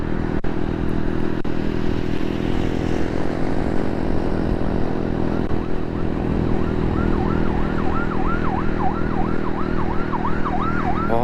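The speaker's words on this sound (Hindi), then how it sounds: "बहुत तेज़ी से एम्बुलेंस गुजर रही है" An ambulance siren wails in rising and falling cycles that grow clearer over loud, continuous road and engine roar as it speeds along a Karachi superhighway street.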